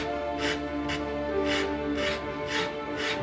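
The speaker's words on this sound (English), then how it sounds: "Using a rasp to shape wood is one of the more exciting aspects of woodworking" A hand rasp shaping wood, scraping in about six separate rough strokes at a steady rhythm, close and fairly loud, each stroke a gritty rasping rub with brief pauses between.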